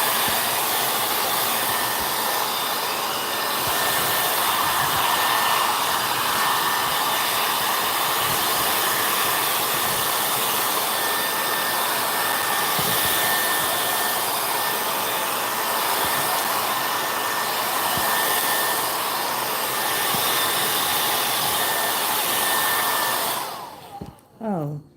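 A hair dryer blows steadily and loudly up close to dry a junk journal masterboard, a continuous whooshing roar that holds for a long stretch before cutting off abruptly at the end.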